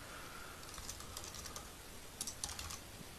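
Rapid clicking keystrokes on a computer keyboard tap quietly in short runs, close up, with a faint background hiss.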